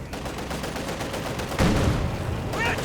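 MG42 machine gun fire in Company of Heroes 2 crackles as a rapid rattle in the battle mix, with a heavier burst midway, all at moderate volume amid game noise.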